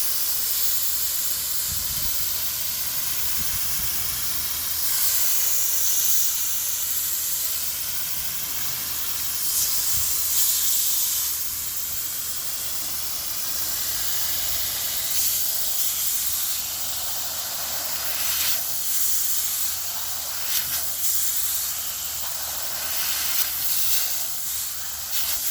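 Water hissing steadily from an Aqua Comb pool filter cartridge cleaning tool used as a sprayer, a continuous broad spray with slight surges, close and fairly loud throughout, with no talking.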